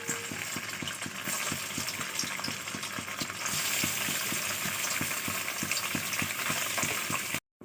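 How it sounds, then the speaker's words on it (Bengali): Paneer pieces fry lightly in hot white oil, a steady close sizzle with regular soft stirring taps throughout, the crackle growing fuller partway through before cutting off abruptly at the end. "এবার আমি পনিরগুলোকে হালকা হালকা করে ভেজে নেব।"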